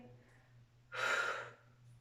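One deep, breathy inhale during an arm-strengthening workout swells up close for about half a second over a quiet background.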